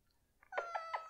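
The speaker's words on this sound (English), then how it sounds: "that's my cat" A house cat meows softly nearby in a quiet room, a short run of three quick chirpy meows.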